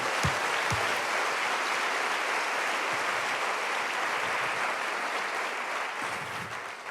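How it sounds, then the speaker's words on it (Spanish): A church congregation claps loudly for the Lord, steady dense applause filling the room throughout, slightly fading toward the end, with no voices rising above it. "Denle un aplauso fuerte al Señor"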